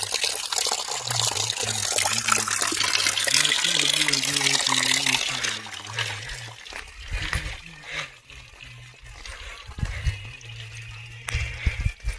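Water streams and splashes steadily in the first half, then thins to intermittent trickles, while a voice speaks over it, beside a flowing water outlet at a devotional site.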